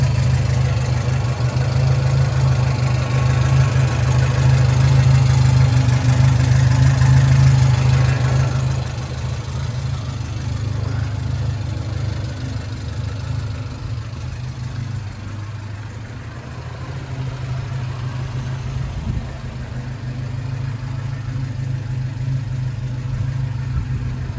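A 1973 Alfa Romeo GTV idling after a cold start, a steady low engine rumble close by that eases slightly lower partway through and holds on without any talk.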